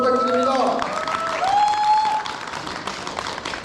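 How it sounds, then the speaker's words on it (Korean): An audience at a book launch claps in a steady wash of applause that fades a little toward the end, with a voice speaking briefly over it near the start. "큰 박수 부탁드립니다."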